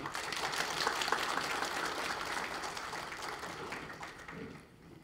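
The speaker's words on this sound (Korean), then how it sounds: "나오실 때 우리 다 같이 박수로 환영하겠습니다." Members at a Korean church general assembly's dawn service clap to welcome a visiting pastor from New Vision Church, a soft, distant wash of many hands that holds steady and then tapers off.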